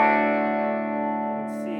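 A 2002 Epiphone Korina Flying V guitar played through a Fender Blues Jr. III amp set clean at the edge of breakup, with one sustained chord ringing out and slowly fading.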